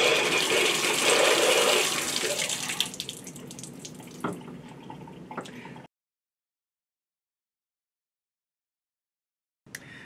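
Water rushes loudly from an open shower valve during a flush of the rough plumbing, then tapers to scattered splashes and drips before cutting out to silence.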